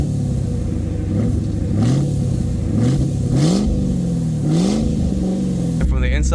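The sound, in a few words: car engine revving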